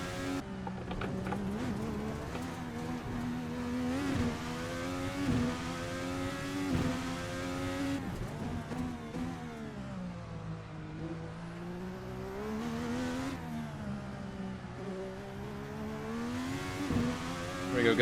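An IndyCar-style race car in a racing video game drives through corners, its engine whining steadily with rising and falling revs as it accelerates and brakes, with faint keyboard or controller clicks under the sound.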